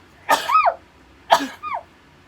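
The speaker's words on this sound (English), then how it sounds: "sorry, impromptu sneeze" Two sharp sneezes about a second apart, each a breathy burst ending in a voiced tail, close and fairly loud against a quiet room.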